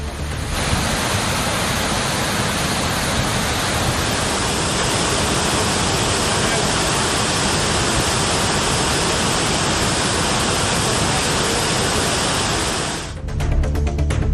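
Water released from a reservoir during heavy Tamil Nadu rains, at 750 cubic feet per second, gushes in a loud, unbroken roar that holds steady throughout before cutting off near the end.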